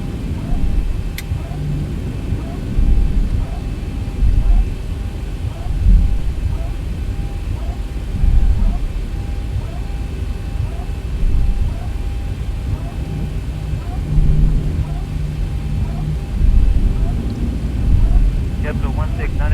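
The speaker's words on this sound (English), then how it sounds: "let's release the parking brake. Taxi straight ahead." A Zibo Boeing 737-800 airliner taxis at Querétaro in the X-Plane flight simulator, its engines giving a steady low rumble and whine throughout, with voices talking over it.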